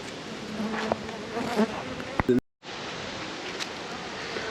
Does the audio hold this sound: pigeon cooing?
no